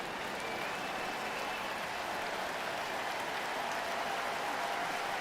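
A sellout baseball crowd at a Yankees–Blue Jays game in Toronto gives pitcher Dylan Cease a steady ovation, a dense, even wash of applause and cheering that holds at a constant level throughout, with no voices standing out.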